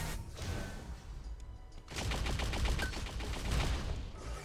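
Link gun in the arena shooter Unreal Tournament firing a rapid, rhythmic stream of pulsing shots that grows louder partway through, set against dense game noise.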